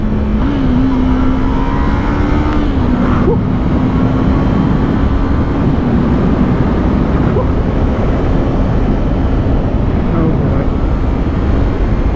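A 2020 Yamaha MT-03 motorcycle riding through twisty roads, its engine note rising and falling with a steady drone, heavy wind rush throughout, and a brief change in revs partway through.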